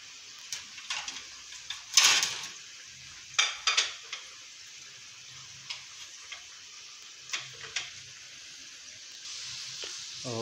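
Potato french fries fry in a pan with a low background sizzle, while repeated metal utensil taps and scrapes against the pan come at irregular intervals, a few louder, no one talking.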